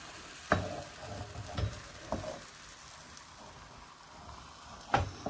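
A tuna crêpe cooks in a pan: a soft, steady sizzle with a few distinct pops or taps spaced apart, fairly quiet and without voices.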